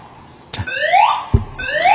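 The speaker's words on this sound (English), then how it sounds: "Someone just pulled the fire alarm on this forum." A building fire alarm sounds indoors during a public forum, giving loud repeating rising electronic whoops with sharp clicks between them, close and with no one talking over it.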